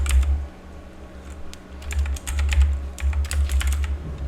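Keys on a computer keyboard clatter in quick, uneven bursts of close, crisp clicks, pausing briefly between runs, with no voice over them.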